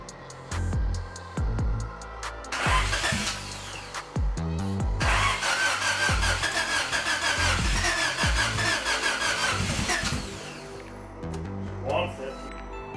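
Honda Civic with an overhauled turbocharged B16 engine cranking and firing up, a loud close rumble that catches and settles into a rough idle with revving, with people talking over it.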